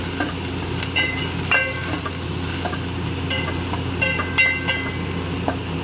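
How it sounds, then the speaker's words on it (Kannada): Mustard seeds, onion, green chilli and garlic crackle and sizzle in hot oil, a steady close frying hiss with scattered sharp pops and a few louder spits, no voices. "ಎಣ್ಣೆ ಕಾದಿದೆ, ಸಾಸಿವೆ ಹಾಕ್ಕೊತಾ ಇದ್ದೀನಿ. ಹಾಗೆ ಈರುಳ್ಳಿ, ಹಸಿಮೆಣಸಿನ್ಕಾಯಿ, ಬೆಳ್ಳುಳ್ಳಿ ಎಲ್ಲ ಇದೆಯಲ್ಲ, ಇದನ್ನೆಲ್ಲ ಹಾಕ್ಕೊತಾ ಇದ್ದೀನಿ."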